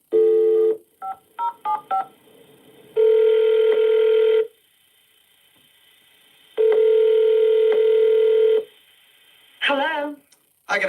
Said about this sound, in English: Joseph, you ready to call her?